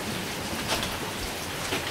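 Hail pouring down steadily during a storm at a park, a dense continuous patter of ice pellets hitting surfaces, even and unbroken with no voices.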